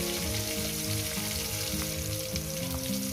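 Four pieces of fish fry in a pan with steady, dense sizzling and crackling, close and constant throughout, with no talking.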